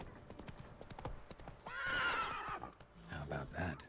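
Roach the horse in The Witcher 3 gives a loud, bright whinny in the middle, with hoof clip-clops before it and a shorter snorting neigh trailing after.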